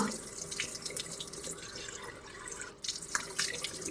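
Hot water runs steadily from a tap into a sink at night, a continuous close splashing hiss with slight dripping variation and no talking.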